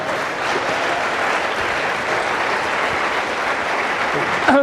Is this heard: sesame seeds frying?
no